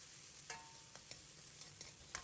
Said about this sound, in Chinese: 简单翻炒扒拉2下